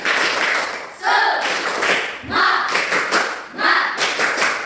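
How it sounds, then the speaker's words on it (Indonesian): A classroom of students claps together in a rhythmic encouragement chant, a few sharp bursts of clapping in a patterned beat, fairly close and loud, with voices mixed in. "Tepuk semangat untuk si Darnis."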